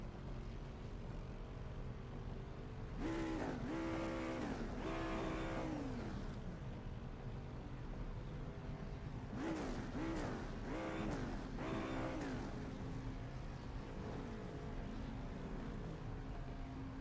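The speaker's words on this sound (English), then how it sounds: "Yeah, keep on revving it, mate." A race car engine in the iRacing simulator revving repeatedly, with sharp rising-and-falling throttle blips in two clusters over a steady idle drone, loud and close.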